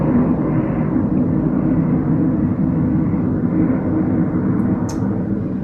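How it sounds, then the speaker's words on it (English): Fighter jets roar overhead as they fly over a house, a loud, steady, broad rumble that holds throughout with no talking. "Sounds like it's flying right over the house"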